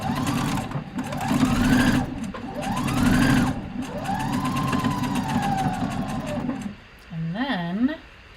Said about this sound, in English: So let's sew this, and zoom in a little bit here.